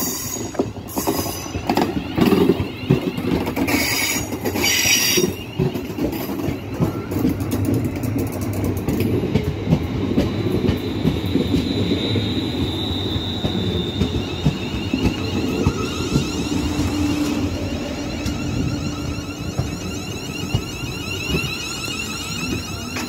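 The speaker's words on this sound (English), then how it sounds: "Here we have our first train." A ScotRail train running from Neilston to Glasgow Central rumbles past nearby, with rattling wheels, a few clanks and faint squealing over a steady mechanical roar.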